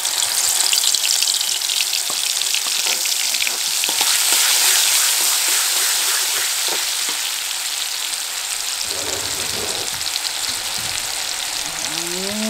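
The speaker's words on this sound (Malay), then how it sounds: "Kita tumis dulu bawang merah dan putih." Shallots and garlic sautéing in a pan, a loud continuous sizzle with scraping stirring strokes that eases slightly toward the end, no talking.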